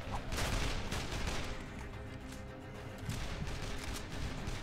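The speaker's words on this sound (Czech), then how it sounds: "Proč po nás střílí?" Rapid bursts of video game gunfire in Dead Island crackle continuously in a dense, noisy barrage, loud and close.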